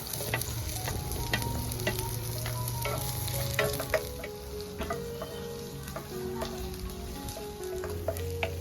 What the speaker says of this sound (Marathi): वाटण बनवण्यासाठी मी कांदा तळून घेणार आहे. आता यामध्ये कांदा घालून घेते.